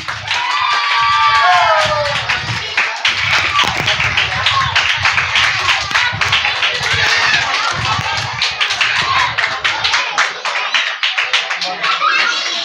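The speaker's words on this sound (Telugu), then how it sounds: "గట్టిగా చప్పట్లు కొట్టండి." A church prayer-house audience at a children's VBS prize programme claps loudly in a dense, steady patter of many hands, with voices mixed in throughout.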